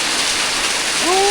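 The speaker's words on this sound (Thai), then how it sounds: "มื้อนี้ฝนตกพี่น้อง" Heavy rain falls steadily at a brick-making site, a loud dense hiss throughout, with a voice starting in over it near the end.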